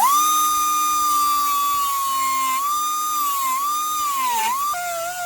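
A high-pitched power tool whines steadily as it cuts off rusted floor studs on a 1942 Dodge truck, its pitch sagging and wavering under load before shifting abruptly near the end.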